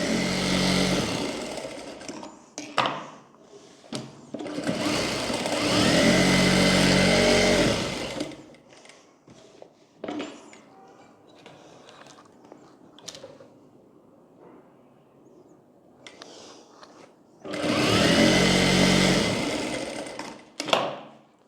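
An electric sewing machine stitches along the neck and lower part of a blouse in two loud, close bursts of rapid whirring, separated by a long quiet stretch of handling and fabric rustling.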